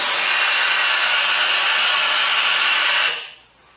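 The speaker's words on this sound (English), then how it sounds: "let's have a look at how much steam it outputs" A Morphy Richards Steam Elite steam iron releasing steam, a loud steady hiss held for about three seconds before cutting off and fading away, heard up close with no talk.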